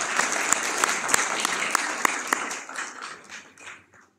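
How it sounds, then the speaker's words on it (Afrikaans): A church congregation claps for a 98-year-old member, a close burst of many hands with a few sharp individual claps, thinning and fading out over about four seconds. "Ja, kom ons klap vir haar hande."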